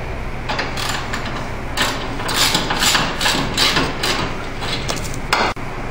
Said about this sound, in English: we're going to hand crank everything here